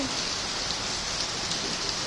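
Steady rain pours down on garden plants in a continuous, even hiss, close and fairly loud, with no voices.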